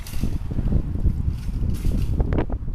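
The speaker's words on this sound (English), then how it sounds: "Wind gust." Outdoor wind gust buffeting the microphone, a steady low rumbling roar with fluttering surges throughout and no clear voices.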